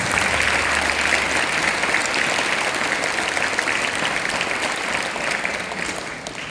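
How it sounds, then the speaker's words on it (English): A school audience at an investiture ceremony gives sustained, dense applause for the principal and staff, an even crackle of many hands clapping that fades slightly at the end. "Give them a big round of applause."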